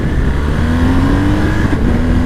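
A 2022 BMW 1250GS motorcycle with a quick shifter revs hard and accelerates, its engine note rising steadily and loud and close throughout, with no talking.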